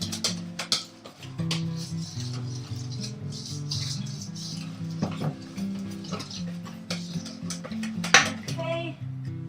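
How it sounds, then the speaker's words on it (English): A whisk beats vegan cake batter in a bowl with quick, irregular metallic clinks and scrapes, close and fairly clear over soft background music. "give it one last whisk there"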